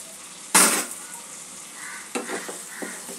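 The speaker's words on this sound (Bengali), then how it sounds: "মশলাটা আমার কষা হয়ে গেছে। ডিমগুলো এর মধ্যে যোগ করে দেব।" Eggs dropped into sizzling, fried-down spiced masala for egg curry: a sharp splash and hiss, then quieter stirring scrapes and soft sizzling in a pan, close up.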